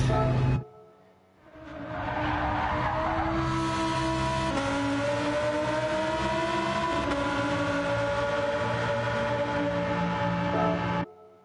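A race car in Gran Turismo 7 revs hard after a brief cut, its engine climbing through loud, sustained high-pitched rising whines, shifting up in stages for about nine seconds before cutting off abruptly.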